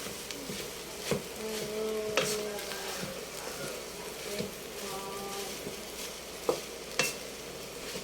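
Leftover rice is stirred in a pan for fried rice: a low, steady sizzle with repeated scraping and knocking of a spatula against the pan. Faint background voices and humming come and go.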